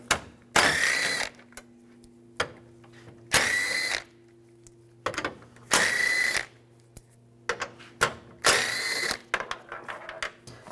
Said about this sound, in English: And take these screws out. Use a 10mm socket.